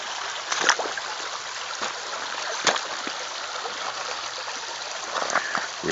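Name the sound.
water running through a natural gold sluice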